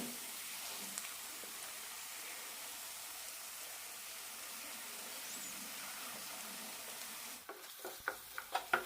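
Masala paste for paneer kurma being sautéed in a pan, a soft continuous sizzle, with a few light stirring clinks and taps near the end.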